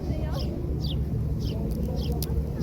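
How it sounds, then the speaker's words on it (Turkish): Chickens cluck repeatedly in short, chirpy calls, moderately near, over a steady low rumble of background noise. "Kuşlar."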